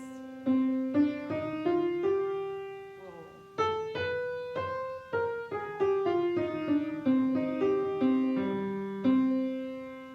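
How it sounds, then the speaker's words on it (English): A sequence of sustained chords played one after another in a minor key, each struck cleanly and left to ring, with no voices. "that chord progression, 1, 4, 5, 7, 1 in minor"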